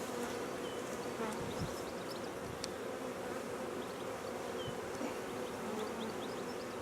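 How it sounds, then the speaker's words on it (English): Honeybees hum close up around a freshly paint-marked queen, a steady, soft, even buzz with occasional louder passes of single bees. "there the bees cleaning it off now"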